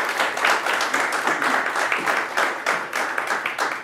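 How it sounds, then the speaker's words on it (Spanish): Steady applause from an audience at a human resources talk, a continuous patter of many hands clapping at moderate volume throughout, fairly close and without speech over it. "Un aplauso para Milene, por favor"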